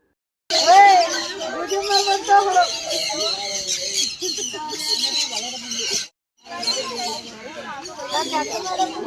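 Small birds perched on students' hands during a school trip to Madikeri squawk and chirp in busy bursts, close by, mixed with excited children's chatter throughout.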